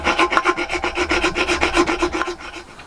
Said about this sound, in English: So we'll get this filed out